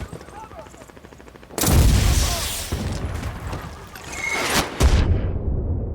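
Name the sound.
grenade launcher firing in the video game Medal of Honor 2010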